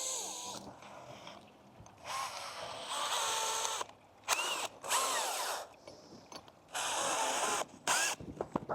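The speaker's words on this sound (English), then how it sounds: "I'm gonna just drill it right into the ground" A power drill driving a screw anchor into garden soil to stake a young redbud tree, heard as several loud, close bursts of whirring motor and grinding that start and stop irregularly, with brief quiet gaps between runs.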